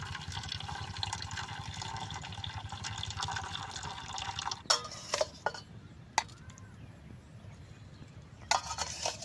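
Hot water is drained off boiled ash gourd in a kitchen, pouring in a steady rush for several seconds. It ends in scattered drips and light clinks.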